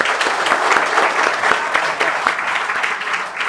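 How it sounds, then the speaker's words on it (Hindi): Audience applause at a NEET Hindi-medium coaching class in Kota, a steady burst of many clapping hands filling the room at full strength for a few seconds, with no talk over it. "एक बार में तालियां।"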